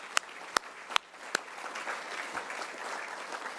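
Audience applause breaks out at a bicycling hall of fame induction ceremony, starting with a few sharp individual claps and swelling into moderate, steady clapping from a seated crowd in a hall.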